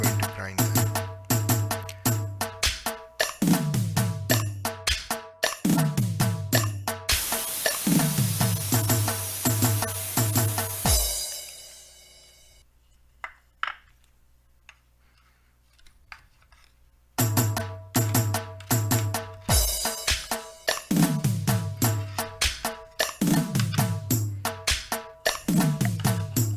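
Roasted cumin seeds ground in an electric spice grinder, loud whirring bursts starting and stopping repeatedly, with a quieter pause midway before the grinding resumes.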